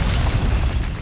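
An Incendio fire spell in Hogwarts Legacy erupts as one dense, loud, roaring fiery blast filling the whole moment, booming low and crackling throughout.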